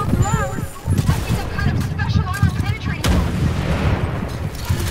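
Wolfenstein Youngblood boss fight gunfire, a dense, loud stream of shots and impacts under excited talk from players, with busy game effects throughout.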